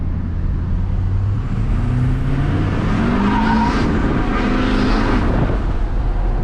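An LBZ Duramax diesel pickup truck revs up hard from 20 to 50, the pitch climbing steadily through gears as it accelerates with a loud roar.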